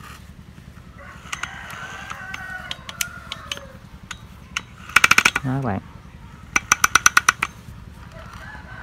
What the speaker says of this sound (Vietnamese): chỉnh chế độ khoan búa sau khi mình quay nó sẽ thụt ra thụt vô này